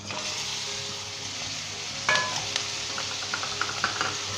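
Beef is stirred into a sizzling pot of Bannu-style beef pulao, a steady frying hiss with scraping spoon strokes and a few clinks in the second half, close and moderately loud with no talking.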